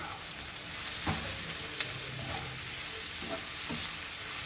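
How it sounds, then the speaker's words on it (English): Squid calamari cooking in Goan chilli masala in a pan, a steady even sizzle with a few faint scrapes or stirs, heard close with no talking. "Let the masala nicely fry."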